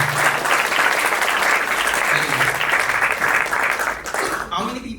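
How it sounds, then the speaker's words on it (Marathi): An audience at a Marathi talent show bursts into loud, sustained applause, dense clapping from a large crowd that fades near the end as a voice begins speaking. "तुमच्या चांगल्या आरोग्यासाठी एकदा जोरदार टाळ्या"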